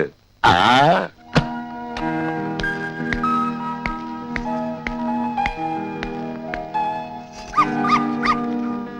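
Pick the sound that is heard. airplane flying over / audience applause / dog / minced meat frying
dog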